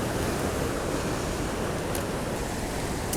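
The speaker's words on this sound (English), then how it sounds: "It's raining harder now." Dense, steady hiss of heavy spring rain at a creek fills the scene, constant and close, with a faint gusty rush mixed in and no talking.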